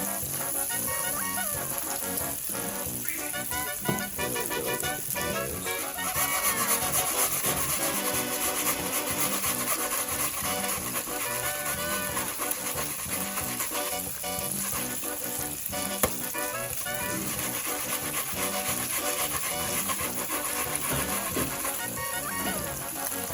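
Onions stirred and sizzling in a frying pan for a breakfast burrito, a steady hiss with scraping and rubbing of the utensil throughout, a voice speaking faintly now and then.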